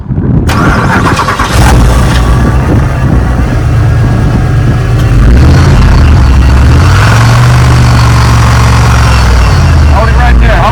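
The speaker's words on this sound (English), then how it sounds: "Start it up, and then, like I said, just give it a little bit of gas" A neglected, vandalized 2008 Buick Super cranks over and fires up, then its engine runs loud and close with rising revs, while people talk nearby.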